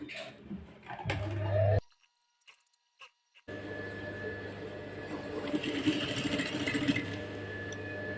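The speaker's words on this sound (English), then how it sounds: "So I'm going to sew from this side now." A sewing machine stitches a sweetheart neckline, running in a brief burst, pausing in near silence with a few clicks, then whirring steadily again with a fast mechanical rhythm.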